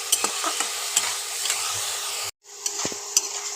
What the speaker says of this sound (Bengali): চিকেনগুলো ভাজা হয়ে গেছে।